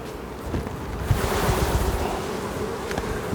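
A dense, steady buzzing of many honey bees fills the air up close, with a broad rushing hum and no voices.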